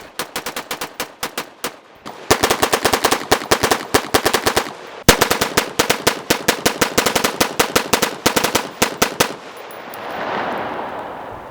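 A rifle fitted with a Franklin Armory binary trigger fires in fast, near-automatic strings of sharp, loud cracks outdoors, with a brief pause midway before the rapid shots resume and then stop.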